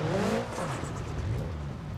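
An off-road Peugeot 405 engine in BeamNG.drive drones steadily, revving briefly up and down at the start and then holding a continuous whirring tone with no speech over it.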